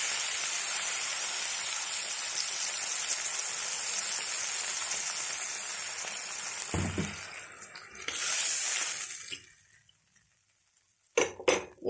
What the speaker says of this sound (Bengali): এখানে আমি জল ঢেলে দেবো ভেতরে।